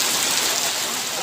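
Heavy rain pours down in a dense, steady roar during a hard climb for a Colt diesel truck and an L300 pickup at Kedabuan, close and continuous with no break.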